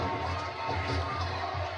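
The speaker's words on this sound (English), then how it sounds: "this crowd tonight getting all fired up here" A crowd at a wrestling event cheers and shouts, a dense, loud roar of many voices filling the space without a break.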